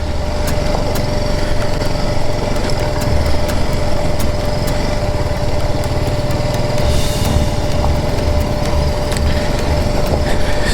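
A BMW G310GS motorcycle rides a mountain trail between hills, its single-cylinder engine droning steadily and near for the whole stretch, with a constant whine and no talking.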